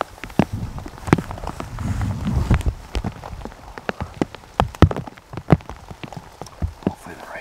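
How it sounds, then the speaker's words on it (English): Rain falling on a hunting tree stand in the woods: a steady close patter of drops with irregular louder taps and knocks scattered throughout, heard alone without talk. "Hopefully the rain lets up."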